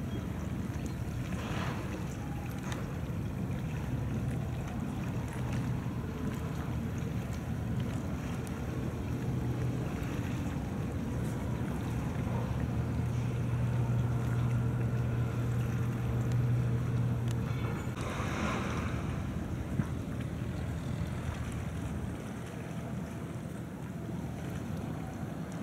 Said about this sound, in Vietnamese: Chiếc ghe tầm bản này chạy giọt lên luôn các bạn ơi, chạy ghê thiệt các bạn.